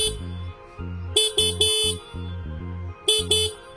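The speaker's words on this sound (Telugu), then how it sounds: "సో హార్న్ యొక్క లౌడ్నెస్ ఎలా ఉందో ఒకసారి చెక్ చేద్దాం." Horn of a 2024 TVS Raider motorcycle blaring in several short, loud honks of varying length, with brief gaps between them and no talking.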